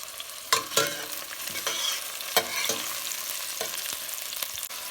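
Onions sizzle steadily in a pan for rajma, with repeated scraping knocks of a spoon stirring them, close and continuous, with no talking.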